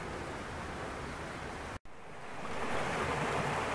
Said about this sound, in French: Le beau petit ruisseau qui descend des hauteurs, qui passe à travers bois et qui va dans le village